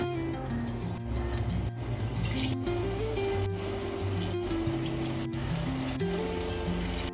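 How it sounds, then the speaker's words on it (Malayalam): Paneer pieces hit hot sunflower oil and fry with a steady, close sizzle that runs the whole time, with background music playing underneath. "ഇനി നമുക്ക് പനീർ ഇട്ട് കൊടുക്കാം."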